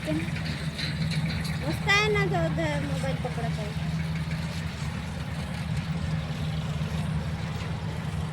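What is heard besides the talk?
chain harvester cutting rice paddy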